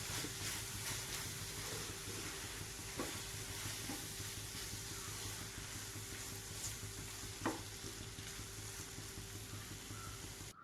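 Curry masala with chilli powder and salt being sautéed, a soft, steady sizzle with a few faint spatula scrapes, quiet and without talk.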